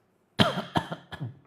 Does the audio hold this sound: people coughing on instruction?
yes